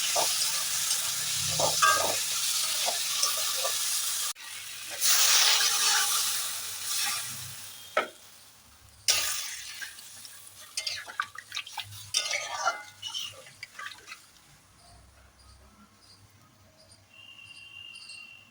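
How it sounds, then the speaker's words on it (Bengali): Fried potatoes tipped into masala in a pot and stirred, then water poured in: soft clinks and scrapes of a spoon against the pan, faint sizzling, and crickets chirping quietly in the background. "এবার ভেজে রাখা আলুগুলো দিয়ে দেবো, দিয়ে আর একটু ভালো করে নাড়িয়ে চাড়িয়ে জল দিয়ে দেবো"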